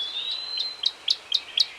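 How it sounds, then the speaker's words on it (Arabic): A wild goldfinch singing outdoors: a thin, high sustained warble followed by four bright chirps at an even pace, clear and fairly close against a quiet background. "من أشهر ما يميز طائر الحسون هو أنه يمتلك صوتا عذبا جميلا، فهو يغرد دائما بشكل متواصل."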